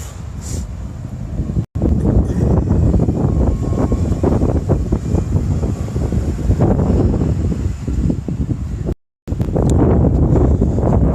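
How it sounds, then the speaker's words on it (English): Heavy wind buffeting the microphone, a steady loud rumble with gusts, briefly cutting out twice. "It's pretty windy."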